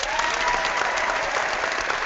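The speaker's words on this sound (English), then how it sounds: "Hold on, let me clap for you." A small group claps steadily and densely for about two seconds, close and fairly loud, with no talking over it.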